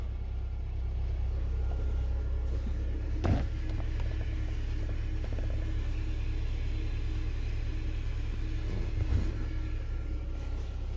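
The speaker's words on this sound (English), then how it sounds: "Gonna let it run a while because it seems like it's gonna stall, but I just put a new fuel pump in there" Low, steady engine idle from a 2012 Kia Soul just after a fuel pump replacement, a constant rumble with a couple of brief knocks, running alone without speech.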